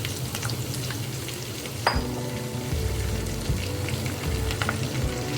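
Cluster beans sizzle in hot oil with cumin seeds and whole red chilies, a steady close frying hiss broken by a sharp clink of a utensil against the pan and stirring scrapes.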